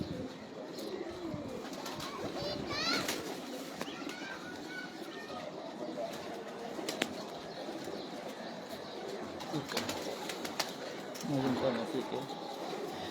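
Pigeons of an old breed cooing on a rooftop loft, soft repeated coos with chirps and a brief flutter of wings, mixed with background chatter and ambient noise.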